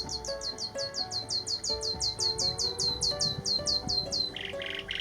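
Repeated bird song at an Essex wildlife site where nightingales live, with rapid rhythmic high notes and bright squawking phrases that repeat steadily, close and clear, no voices.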